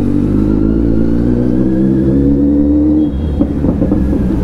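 Kawasaki Z900 motorcycle with stock exhaust, its engine idling loud and close with a deep steady throb, then a slight blip and some clattering mechanical noise near the end.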